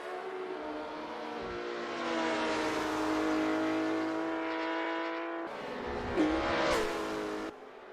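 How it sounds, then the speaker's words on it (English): A De Tomaso Pantera V8 race car engine in a racing video game at Daytona roars steadily and loud, its pitch rising and holding, then a sharp rev and squeal before it cuts away. "Big Pantera makes a heck of a sound for a traditional proverbial V8."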